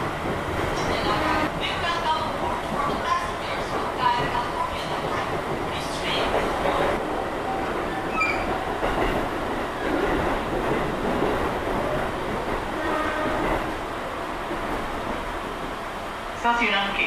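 A KRL commuter train rumbles past near Kampung Bandan station, heard from aboard another train as a continuous rolling roar with passing swells, joined by indistinct voices.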